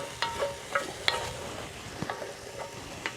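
Potatoes and onions cooking over a hot open fire: a soft crackling sizzle broken by several sharp scrapes and clinks of stirring, close and without talk.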